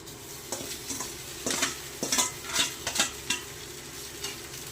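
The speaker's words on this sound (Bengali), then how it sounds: "ছেঁকে রাখা পাস্তাটা এবার ঢেলে দেওয়া হচ্ছে" Boiled, drained pasta tipped into a pan and stirred, with a steady low sizzle under repeated scraping and clinking strokes of a spoon against the pan, close and moderately loud, no voices.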